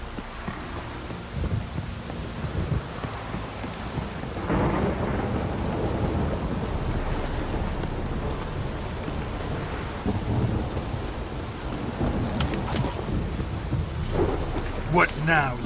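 Steady heavy rain hisses throughout, with low rolling rumbles of thunder building and fading, loud and close, no voices, in the video game The Witcher III: Wild Hunt.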